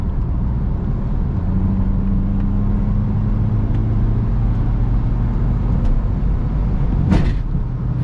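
A BMW 3 Series in sports mode accelerates at night, a steady low engine drone rising slightly in pitch under road noise, heard from inside the car.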